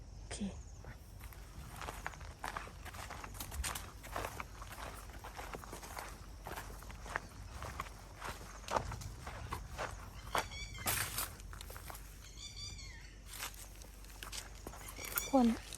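Footsteps crunch steadily along an outdoor trail beside a stream, soft and close, with occasional rustling and faint voices in the background.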